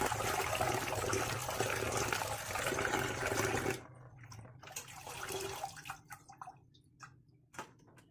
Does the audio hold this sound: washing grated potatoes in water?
yes